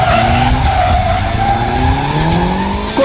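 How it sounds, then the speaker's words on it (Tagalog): Several drift cars slide around an oval track at a charity drifting event in Quezon City, tires screeching in long continuous wails over loud, steady engine roar, close and sustained throughout. "nagpasiklaban ang nasa 16 na drifters sa pagpapaindak at pagpapaliyad sa kanilang mga tsikot sa loob ng track na paikot."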